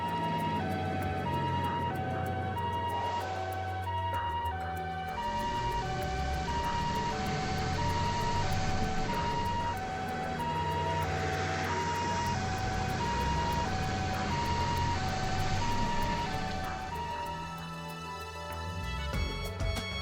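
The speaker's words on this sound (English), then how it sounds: "Were those ambulances just now?" Ambulance sirens in the Trails to Azure video game, a steady two-tone wail that keeps sounding for most of the stretch over a dense, loud game music and traffic backdrop, fading toward the end.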